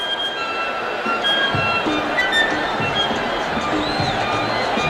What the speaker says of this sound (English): The crowd has set up a mighty uproar after that round. I'm sure you can hear it.